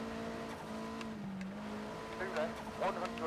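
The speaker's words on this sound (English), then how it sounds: "We can hear a nice turbo kicking in on this car." Turbocharged rally car engine in the Rush Rally 3 racing game on Nintendo Switch, a steady droning tone with a rising whine and brief higher bursts near the end as the turbo spools, under commentary.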